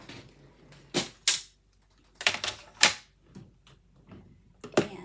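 A hand-operated paper trimmer used upside down slices through paper, giving several sharp, close cutting snaps and swishes in quick bursts, with quieter rustling and handling noises between them and no talking.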